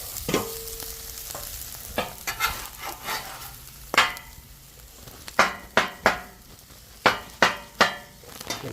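Chicken, mixed vegetables and udon noodles sizzle in a pan, with a steady frying hiss under repeated sharp clacks and scrapes of a utensil stirring against the pan, close and moderately loud.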